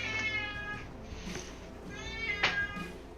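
A cat meows loudly twice, with two clear drawn-out cries standing out over a low, steady room background during a tabletop game session.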